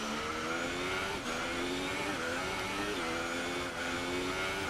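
Formula 1 race car in the F1 2018 video game driving on a wet track, a loud continuous high-revving engine whine with steady gear-shift pitch steps over rain and tyre spray.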